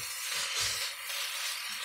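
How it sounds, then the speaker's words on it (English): Pasta tossed in garlic butter in a pan, with a short, close hiss and sizzle plus faint stirring movement, no voices. "now we're tossing our pasta in the garlic butter and everything"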